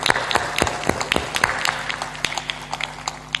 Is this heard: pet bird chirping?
no